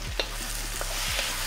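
Brisk sizzle of beef hitting a hot wok for beef with onions, continuous frying hiss with a couple of quick stirring scrapes, close and loud, no talking.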